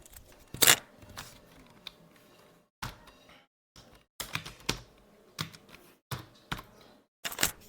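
Someone types an ID, password and captcha on a computer keyboard to sign in to a government e-salary portal. Quiet, close key clicks come in short irregular bursts separated by brief pauses.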